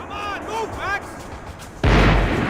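A heavy, booming gunshot blast from long range in the video game Max Payne 3 hits suddenly after a stretch of quieter game sound and a voice, then rumbles on loudly to the end.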